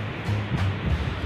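Sea waves wash onto Lawis Beach in Labrador, Pangasinan, a steady low surf roar with soft swelling surges, continuous and fairly near.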